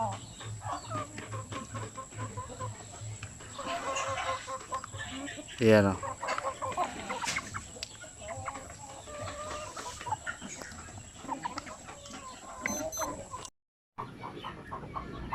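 Young zampen chickens cluck and call around a farm pen, with a brief crowing-like burst midway over constant background hiss, while someone speaks intermittently nearby.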